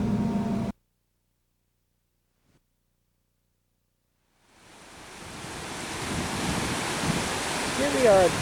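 Rushing waterfall beside the parking lot at Boyden Cavern, a broad steady roar of falling water swelling in after a stretch of silence, with a brief burst of other noise at the very start.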